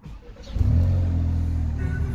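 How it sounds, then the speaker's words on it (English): A car engine cranks and starts during a battery cranking test with a TOPDON BT600 tester, a brief crank giving way to a steady, loud idle rumble close by. "start the engine here"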